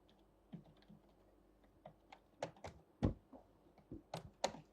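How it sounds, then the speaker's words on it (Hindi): Keys clatter on an office computer keyboard in irregular bursts of sharp clicks and thuds, close and fairly quiet, with no talking. "भाई ये कीबोर्ड चेंज कराओ, बहुत तंग कर रहा है।"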